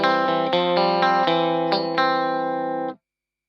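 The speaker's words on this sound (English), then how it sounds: "This is the tone stack of the deluxe reverb with a Friedman profile, and this is the original." Electric guitar played through a Kemper Profiler on a Deluxe Reverb profile: about eight strummed chords in quick succession ring out full and bright with chorus-like shimmer, then stop abruptly.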